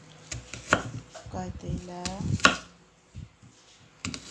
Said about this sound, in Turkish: Soğanlarımızı doğrayıram.